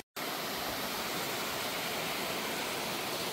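A distant high waterfall in misty mountains in North Korea, heard as a steady, even broadband rush that continues without pause after a brief silence at the start.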